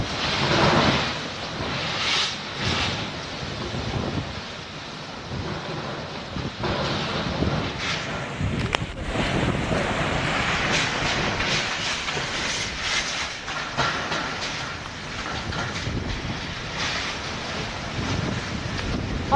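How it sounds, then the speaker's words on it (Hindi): Strong wind from cyclone Nisarga roaring continuously along the Alibaug coast, a loud rushing broadband howl with gusting surges and crashing surf for nearly twenty seconds, with no voices. "इस आवाज को सुन के अंदाजा लगाइए कि हवा की तीव्रता क्या है"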